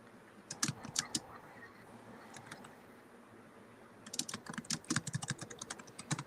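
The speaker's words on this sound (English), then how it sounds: "Just finish typing something up here." Typing on a computer keyboard, quick bursts of close key clicks with a pause in the middle before a denser flurry of keystrokes, no talking.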